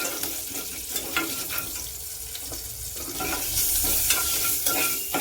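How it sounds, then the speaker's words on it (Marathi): Mustard seeds sizzle and crackle in hot oil in a pan, a close, steady hiss with scattered pops that grows slightly louder toward the end. "मोहरी घातली आता जरा चढते"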